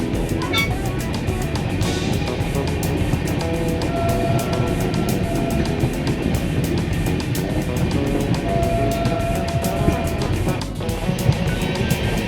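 A passenger train runs steadily on a long journey to Delhi, heard from inside as a continuous loud rumble and rattle with faint tonal whines, and no talking.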